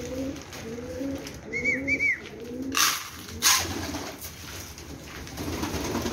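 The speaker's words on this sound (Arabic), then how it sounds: "هاي الطيور" Pigeons coo in a repeated, rhythmic series of soft low calls close by, with a few sharper knocks and rustles in the background.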